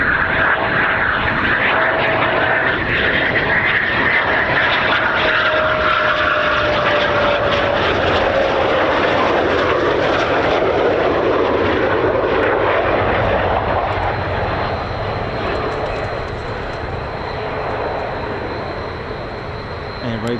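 Jet aircraft aero braking after landing during an RAF exercise, a steady loud roar of engine and rushing air that holds for the whole stretch, with a slow falling whine sliding down through it.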